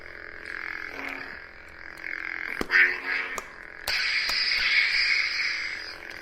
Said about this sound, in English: as you can hear, that is the sound of my lightsaber.